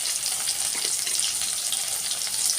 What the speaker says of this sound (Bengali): এখানে মাছ ভাজা বসিয়েছি